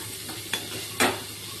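Beetroot slices sizzling in a frying pan at home, a steady low hiss with two sharp scraping stirs of a utensil against the pan, close and without talk.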